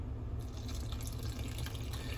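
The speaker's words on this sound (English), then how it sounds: "all that's left to do is add in our water and start mixing" Water poured from a cup into flour for yeast-free flatbread dough, a soft steady trickle and splash heard close and fairly faint, continuous throughout with no talking.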